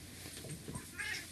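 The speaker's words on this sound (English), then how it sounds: "If you hear bells and everything, or meowing, she's in here." A cat gives a short, faint meow, with a soft rising cry near the end against a quiet background.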